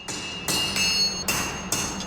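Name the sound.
hammer forging a red-hot steel bar into a sword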